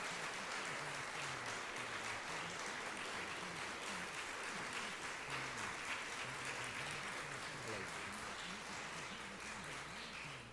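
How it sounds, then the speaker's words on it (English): Steady applause from an audience at a 1997 awards ceremony fills the whole stretch, even and continuous, with faint voices murmuring underneath. "Let's give her a big round of applause."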